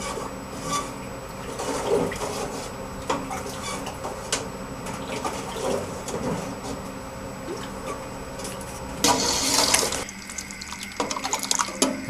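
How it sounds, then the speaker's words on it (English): A pot of chicken gumbo with diced tomatoes and their juice is stirred, giving wet sloshing and scraping strokes close by that grow louder near the end. "Going to give it a good stir."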